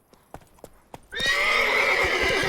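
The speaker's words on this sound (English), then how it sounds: "Run, Roach" A horse in the video game The Witcher 3: a few spaced hoofbeats, then a sudden loud, sustained rush of galloping that carries on to the end.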